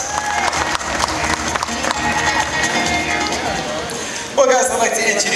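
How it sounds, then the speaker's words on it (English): Audience in a theater at an animal show claps and cheers, a busy crowd of applause with scattered shouts and voices, rising briefly near the end as someone speaks over it. "How about a big round of applause for Blake?"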